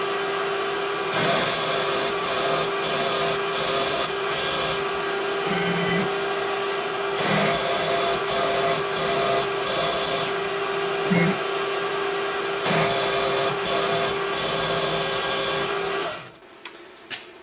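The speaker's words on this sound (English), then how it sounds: "So I'm going to change out for a 9/32 drill bit. We'll drill those out tapping size" A 9/32 drill bit bores holes in metal on a machine while building a pull-gear speed reducer. The motor gives a steady, loud whine and hum with small surges as each hole is cut, then stops abruptly near the end.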